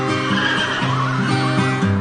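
A horse in a stable neighs in repeated, wavering whinnies, loud and close, over a dense background of other noise with no talking.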